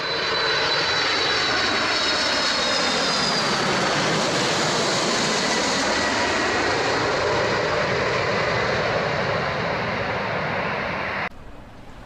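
Jet engines of a Boeing 747 at an airport in heavy fog, a loud, continuous roaring rumble with a rising and falling whine that holds steady throughout before dropping sharply at the very end.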